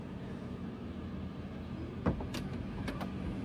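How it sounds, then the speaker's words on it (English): Powered front trunk of a Xiaomi YU7 electric car closing by itself, a steady low motor hum with a soft thud and a few light clicks as the lid latches, close by. "now they're going to close automatically because it is a powered front"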